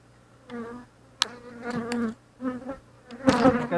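Honeybees from a hive under inspection buzz in short, loud bursts close around the head, coming and going in irregular passes with brief quiet gaps between them.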